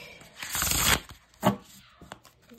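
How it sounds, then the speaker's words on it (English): A deck of reading cards being shuffled close up, with a long riffling burst followed by a shorter second pass and a few light card taps. "I'm just going to give it a shuffle here a few times"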